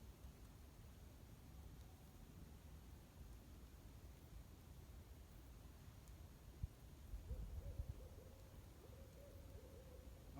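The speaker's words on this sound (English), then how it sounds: "You guys hear the owl hooting?" A faint owl hoots a few times in the distance over quiet outdoor background hiss, soft low calls near the end.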